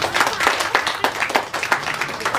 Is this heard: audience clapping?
yes